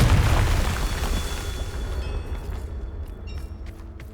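A Confringo spell explodes in Hogwarts Legacy: one loud, deep booming blast already at full force, rumbling and fading over about four seconds, with faint clicks and tonal game sounds trailing behind.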